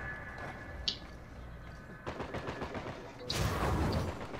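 Gunfire in a video game team deathmatch, bursts of automatic shots rattling at moderate distance with a louder volley near the end, over faint background game noise.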